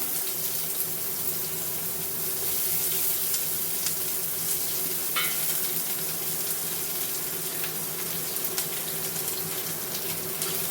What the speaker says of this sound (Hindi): ये कट करके जो रखी थी प्याज, ये फोरन में डाल रही हूँ।